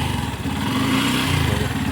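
Yamaha FZS Version 4 BS6 motorcycle engine running steadily after a self start, a loud close continuous throbbing idle with no talk over it.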